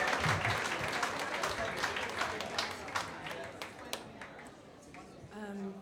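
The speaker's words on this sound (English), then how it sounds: "Big round of applause for Marchand." A comedy club crowd applauding with dense, rapid clapping that slowly thins out, with a few voices mixed in near the end.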